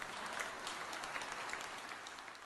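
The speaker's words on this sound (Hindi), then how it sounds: "मनोबल बढ़ाने के लिए बजी तालियों से पूरा सेंटर गूंज उठा।" Applause filling a COVID care centre, a steady crowd of clapping hands heard faintly and evenly throughout, with no talking.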